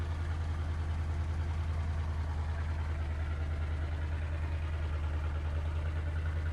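An open-air tractor in Farming Simulator 22 idles while spraying a field. The engine holds a steady, loud, low throbbing drone with an even pulse, and faint talking sits beneath it.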